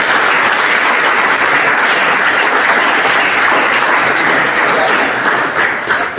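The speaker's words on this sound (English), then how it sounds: "Can I have a big round of applause" Audience applause at the end of a class on responsible use of social media, a full continuous roar of many hands clapping that holds steady and tapers slightly at the close.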